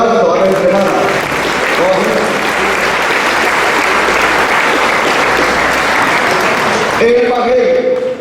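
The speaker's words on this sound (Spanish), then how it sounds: "démosle un fuerte aplauso a la hermana" A church congregation at a Sunday Mass applauds loudly and steadily for several seconds, with a voice over a microphone heard briefly at the start and end.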